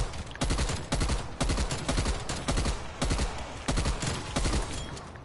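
Gunfire in Call of Duty Cold War Zombies rings out as a rapid series of about a dozen loud, sharp shots in uneven clusters, close and prominent with no voices over it.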